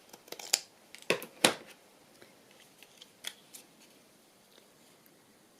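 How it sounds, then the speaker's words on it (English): Scissors trim paper for a vintage travel journal: a quick cluster of sharp, close snips early on, then a few sparser cuts and soft paper rustles. A single word is briefly spoken. "I need to just trim that off there."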